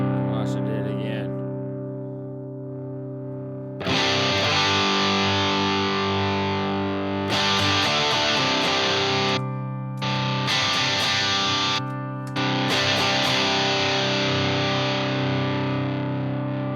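Distorted electric guitar chords played through Headrush and Helix effects units, loud and sustained with several brief cut-offs and restarts, thick saturated tone.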